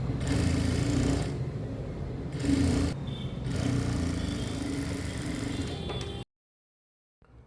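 A sewing machine runs in steady bursts while stitching a double-folded cross piece of fabric for a blouse back neck, a close mechanical whir that pauses briefly twice and stops near the end.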